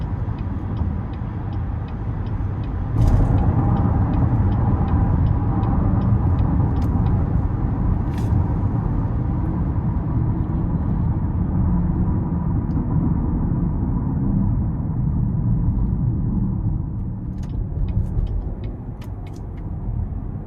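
Steady low rumble of road and engine noise inside a 2023 Cadillac XT6 Premium Luxury cruising down the road, smooth and continuous throughout with a few faint ticks and clicks.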